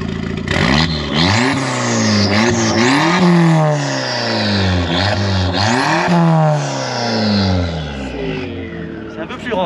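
Abarth car engine revving hard through its exhaust, rising and falling pitch sweeps repeated several times, loud and close, with people talking over it.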